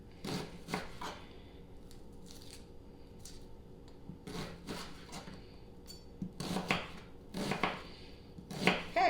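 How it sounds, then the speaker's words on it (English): A knife chops a white onion on a cutting board in several short bursts of quick, crisp taps separated by pauses, close and fairly quiet, with no voices. "And then I'm going to chop up 1 whole onion."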